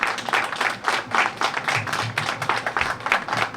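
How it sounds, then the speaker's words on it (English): An audience at a school arts festival claps together in a steady round of applause, moderately loud and continuous for a few seconds. "I'd like for everybody to give them a round of applause for their sacrifice and their commitment"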